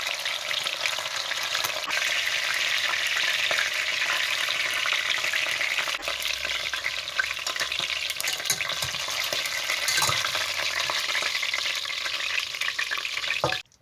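Oxtail pieces sear in a hot pan with a loud, steady sizzle and crackle that runs unbroken for several seconds, close up, with faint scraping stirs and no talk.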